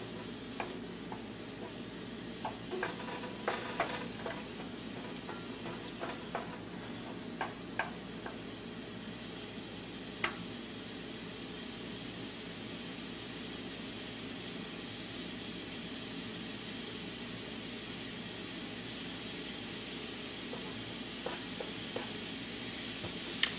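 Garlic sweating in a pan on a stovetop burner gives a steady low sizzle throughout, with occasional small ticks and stirring clinks, no voices.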